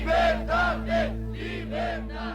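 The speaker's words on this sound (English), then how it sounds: "For the first time, the crowd calls out for freedom." Crowd of protesters in Romanian streets shouting a rhythmic chant in repeated bursts, five loud swells of many voices over a low steady hum.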